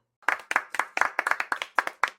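Sharp hand claps from a small group of children in a classroom, around a dozen quick, close, uneven claps in a short burst with no talking.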